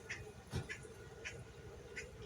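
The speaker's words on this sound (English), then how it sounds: "That is the woodpecker, you guys. He's yelling." A woodpecker gives a fight call from outdoors: a few short, sharp calls repeat at irregular intervals, faint and somewhat distant, over a low background hum.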